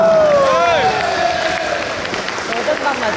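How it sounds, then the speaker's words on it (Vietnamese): Spectators applauding a player at a Vietnamese competition, a loud, steady crowd of clapping and cheering with whistles rising above it and a voice talking over the noise. "Tôi rất mong cổ động viên cho chàng vỗ tay lần nữa."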